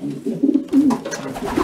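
Racing pigeons coo nearby in soft, low, throaty bursts, several rolling calls in a row at close range in a quiet space, with no voices over them.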